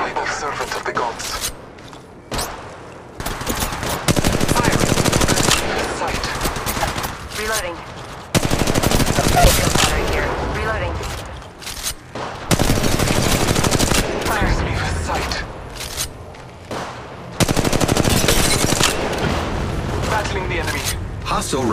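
Bursts of rapid gunfire in a battle royale video game, loud and close, come in repeated volleys with brief gaps between them, while a player's voice talks over the shooting.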